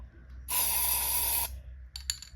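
A spray paint can hisses into resin in one steady one-second burst, close and loud, followed by a few short sputtering sprays.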